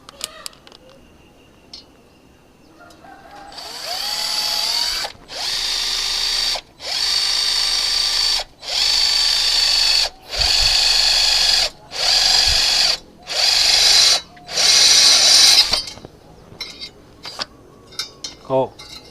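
Power drill boring a hole through 1.5 mm thick box steel, heard as eight loud, even bursts of high whining grind separated by short pauses, with light clatter afterward.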